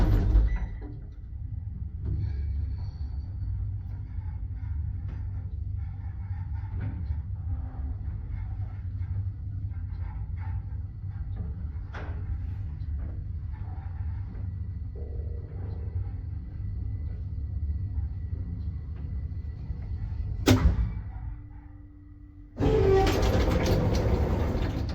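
A 1979 KMZ lift rides with a low, continuous mechanical rumble and faint clicks, then a sharp clunk, a brief lull and a sudden burst of louder noise as it stops or the doors open.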